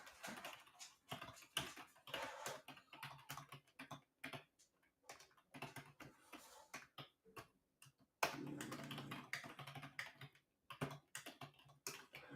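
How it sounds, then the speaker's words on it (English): Keyboard keystrokes clatter in quick irregular bursts, moderately close and fairly quiet, with short pauses between runs and a denser, louder stretch of typing toward the end; no one speaks. "I'm just typing in here"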